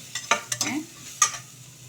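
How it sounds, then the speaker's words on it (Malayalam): Elephant foot yam pieces fry in a pan while being stirred, giving a few scraping stir strokes and light sizzling, close and moderately loud, with no talking. "ഇതെല്ലാം ആഡ് ചെയ്തിട്ട് നന്നായിട്ടൊന്ന് വറക്കുക."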